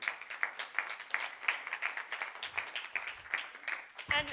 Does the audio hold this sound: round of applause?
yes